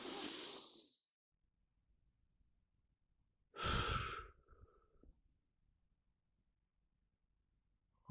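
Two deep, slow breaths during a sophrology relaxation exercise, each a close, airy exhale with a long silent pause between them.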